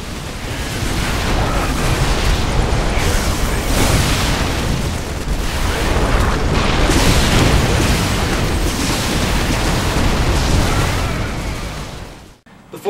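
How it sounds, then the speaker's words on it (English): A StarCraft II battle rages with continuous loud explosions, booms and gunfire layered densely together, a sustained roaring barrage that fades out near the end. "the combination of great sound, ridiculous graphics results in a symphony of exploding corpses, laser fire, gunshots,"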